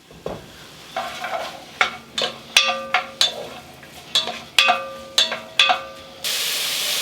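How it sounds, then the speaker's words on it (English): Vegetables sweating in a pot for tomato soup with rice, with a spoon striking and scraping the pot in a run of sharp, ringing knocks over a faint sizzle, then a louder burst of hiss at the end. "So by sweating them, I'm getting rid of some of the moisture and intensifying the flavor of the vegetable."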